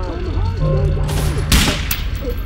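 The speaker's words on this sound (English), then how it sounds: "look, there's gonna be a major firefight" Gunfire crackles through a firefight in the video game Velvet Assassin, with bursts and sharp reports around the middle and a steady game background bed, while someone talks over the action.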